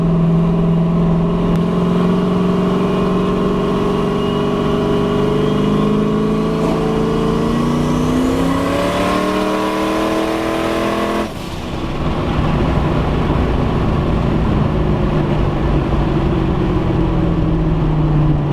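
A turbocharged LS-powered car engine revs hard and steadily, a loud continuous roar that climbs in pitch and then drops off sharply before settling back into a sustained drone, close by with no talking.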